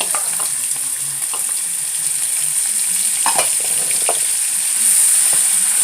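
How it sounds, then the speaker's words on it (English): Diced ham is stirred into a pan of browned bacon for copycat green beans, a loud, close, continuous sizzle with utensil scrapes and knocks breaking through the frying hiss. "We're going to stir that ham in there like that."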